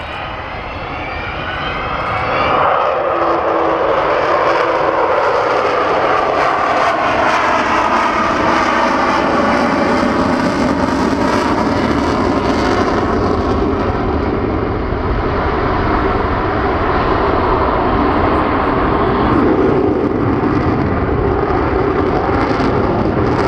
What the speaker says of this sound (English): Slow fly past here.